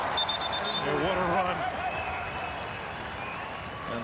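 A soccer crowd at BMO Field in Toronto applauds a player's run during a Toronto FC match, a broad, sustained wash of distant clapping and cheering beneath a commentator's voice.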